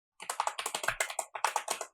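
Fingers type on a computer keyboard in a short, quick burst of crisp key clicks, close and distinct, with a brief pause midway before typing resumes.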